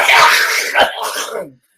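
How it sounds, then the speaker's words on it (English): One loud throat clearing up close, a rough raspy rumble with a couple of pulses, then silence. "I had to clear my throat"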